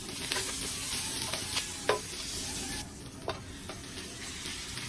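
Onion and garlic sautéing in a pan, with a steady, close sizzle and occasional scraping stirs and light clanks of a utensil against the pan.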